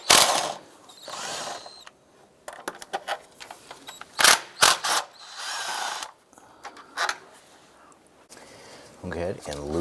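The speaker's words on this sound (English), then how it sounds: "Remove these two 10mm bolts" On a 2007-2012 Chevrolet Colorado engine bay, a ratchet works two 10mm bolts in short clicking bursts, mixed with scattered tool clatter and handling noises.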